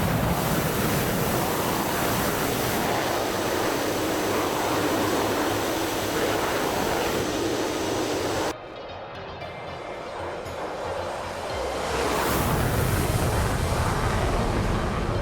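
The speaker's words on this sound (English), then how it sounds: "A MiG-29 mil-power takeoff." A MiG-29 jet makes a mil-power takeoff in a flight simulator game, a loud steady roar of broadband engine noise that cuts abruptly, drops to a quieter rumble, then swells back to full roar.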